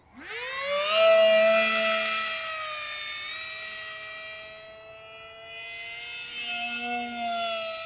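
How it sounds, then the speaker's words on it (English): Esky Eyas Eagle RC airplane motor screaming in flight, a loud sustained high whine that rises sharply at the start, holds steadily, dips briefly and swells again like a siren. "This plane certainly likes to scream, but also really fun and agile."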